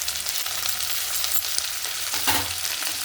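Peas and carrots fry in a pan for a puri curry, a dense, steady sizzle with occasional scraping stirs, close and continuous with no talk.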